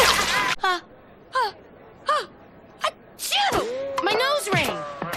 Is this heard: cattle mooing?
no